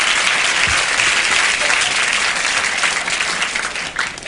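A studio audience on a 1993 Late Night with David Letterman taping applauds Roseanne Arnold, a dense, steady roar of clapping that fills the whole stretch and eases off slightly toward the end.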